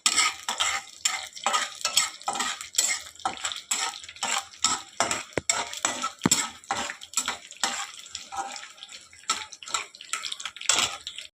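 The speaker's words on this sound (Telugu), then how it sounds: "ఈ పోపుని వేగనిద్దాము" Mustard seeds and fenugreek fry in hot oil as a tempering for sambar, giving irregular bursts of close crackling and popping over a thin sizzle, with no talk.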